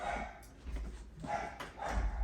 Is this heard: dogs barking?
yes